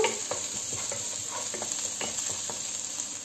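Butter melts with pepper paste in a hot pan for a lentil bulgur pilaf, giving a steady soft sizzle with faint scraping and stirring clicks throughout.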